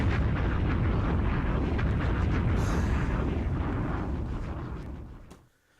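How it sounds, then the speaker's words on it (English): A bomb explosion sound effect: a loud, rumbling blast that sustains for several seconds before decaying and cutting off abruptly. "drop another bomb on him"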